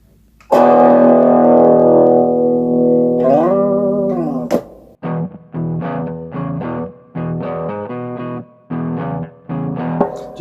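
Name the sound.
overdriven electric guitar with reverb through Ammoon PockAmp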